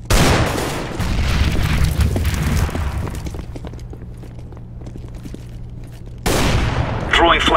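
Grenade blasts and rapid gunfire in an online shooter game, heavy booming bursts with clattering shots and footsteps, loud and dense at the start, thinning out, then another sharp burst near the end.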